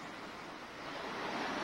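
Rushing water of a river, a dense, steady broadband roar that swells slightly louder toward the end, heard alone without any voices.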